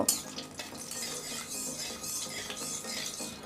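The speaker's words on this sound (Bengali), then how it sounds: "চারটে শুকনো লঙ্কা আর দিয়ে দেব চারটে ছোট এলাচ দিয়ে একটু নাড়াচাড়া করে নেব" Four dried red chillies and four green cardamom pods stirred in hot oil in a pan, soft scraping and light clinks of a spoon against metal over a gentle sizzle, close and steady, no talking.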